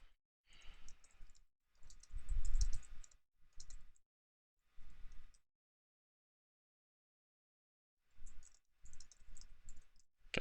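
Computer keyboard typed on in short bursts of close clicking and tapping, separated by pauses and a long silent gap, with no voices.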